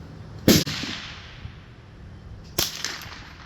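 A suppressed Rossi RS22 rifle fires two sharp, clipped shots about two seconds apart, close and loud, with short decays between them.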